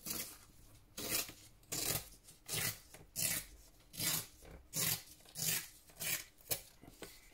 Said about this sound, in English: we're going to have to trim this right down the edge